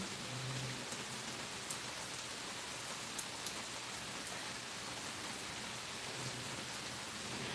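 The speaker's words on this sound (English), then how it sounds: "No, Murray, I just came live to let people listen to the rain." Steady rain falls in a constant, even hiss with a few faint drips and taps standing out, and no voices over it.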